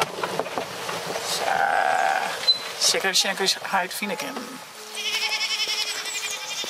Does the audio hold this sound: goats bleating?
yes